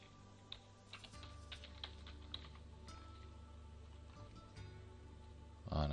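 Keys clatter on a computer keyboard in irregular bursts during a Photoshop signature design session, a quiet room hum running underneath and a louder knock right at the end.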